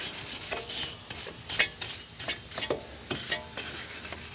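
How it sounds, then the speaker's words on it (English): A wire brush scrubs rust off the brake hub of a Chevy Cruze in a driveway, rhythmic rasping strokes repeating steadily, close and fairly loud with no talk. "So I'm going to grab a wire brush here, so brake clean. I'm going to clean the hub"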